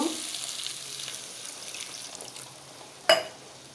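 Frying meat and spices sizzle softly in a pan until water is poured in, giving a sudden sharp hissing burst near the end that quickly dies down.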